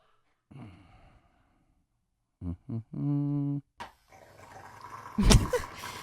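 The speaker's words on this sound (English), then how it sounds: "This is a dog getting his nails clipped. He hates it so much." A dog getting its nails clipped growls and whimpers in a few short, close bursts, with faint rustling and handling noise around them.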